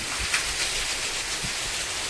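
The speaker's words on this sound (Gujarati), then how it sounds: "વરસાદ આવી ગયો" Rain falls steadily as a soft, even hiss with a few faint low thumps, heard alone with no voices.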